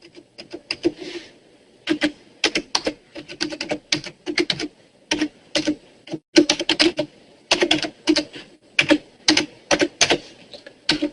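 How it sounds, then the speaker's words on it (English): Rapid bursts of typing on a computer keyboard, close and clear, with clustered keystrokes separated by short pauses throughout, no voice present. "I was trying to type it out so you could just click on it"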